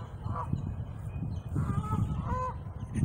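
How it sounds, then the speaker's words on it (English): A peacock at a zoo calls in short, honking, goose-like cries over a rumbling outdoor background. "I'm assuming it's a peacock"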